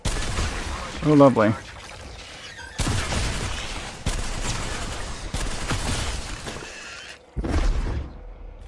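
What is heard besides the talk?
gunfire in a video game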